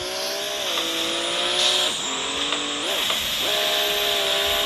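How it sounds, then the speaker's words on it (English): A BMW drift car slides with a continuous tire squeal and engine whine that rises and falls in pitch as it revs, loud and sustained with no talk. "Testing all 4 drift vehicles. Number 1, BMW."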